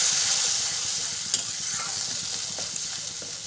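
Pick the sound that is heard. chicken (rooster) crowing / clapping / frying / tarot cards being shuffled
frying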